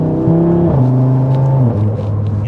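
Audi RS3 8Y engine revving, a loud close drone stepping through a few quick rises and drops in pitch, like gear changes under acceleration, with no talk.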